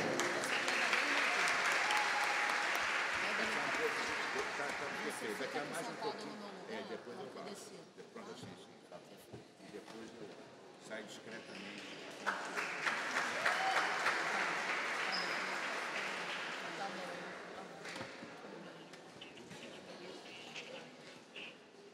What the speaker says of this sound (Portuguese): Nossos aplausos à deputada Dani Balbi